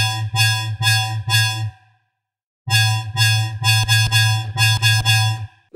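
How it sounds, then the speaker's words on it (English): Metallic synth bass line made in FL Studio, loud and dry: a rhythmic run of buzzy, harmonically rich bass stabs, a short silent gap, then a longer busier phrase of repeated hits with no talking. "Then I used the same metallic bass line that I used in the build-up"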